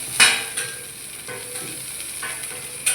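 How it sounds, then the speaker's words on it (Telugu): Garlic and ginger paste added to a hot frying pan for fish curry, a steady sizzle with a few sharp stirring scrapes and clinks near the pan. "తెల్లగడ్డలు అల్లం పేస్ట్ వేస్తున్నాడు."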